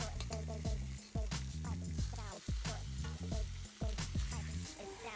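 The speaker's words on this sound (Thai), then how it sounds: "ตั้งกระทะให้ร้อน แล้วนำเนื้อหมูที่เราหมักไว้ ลงมาผัดค่ะ" Marinated pork sizzles and hisses as it is stirred in a hot pan, with bright background music playing throughout.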